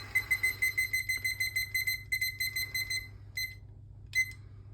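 A kitchen timer beeps in a rapid, steady run of high electronic pulses for about two seconds, then gives a few shorter broken bursts, close by over a low steady hum, with no talking, while sourdough bread bakes.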